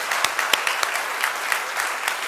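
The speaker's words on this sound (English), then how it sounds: "Let's give a big round of applause" A crowd gives a big round of applause, loud and close, with dense overlapping handclaps and a few sharp individual claps standing out throughout.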